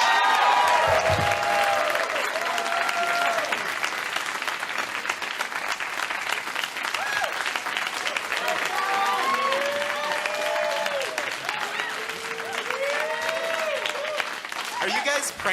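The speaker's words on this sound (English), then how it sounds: "Thank you for your applause." Enthusiastic crowd applause greets a comedian at a stand-up show, sustained clapping and cheering with a voice talking over it and occasional whoops rising from the audience.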